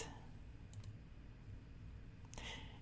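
A computer mouse clicks in a quiet room: a quick double click near the start and another soft click a moment later, both close and crisp against faint background hiss.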